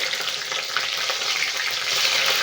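Garlic fries in hot oil for a Tamil-style dish, giving a steady, close sizzle and crackle with no talking.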